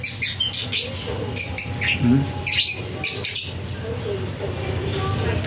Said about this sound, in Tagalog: yung mga alaga nating ibon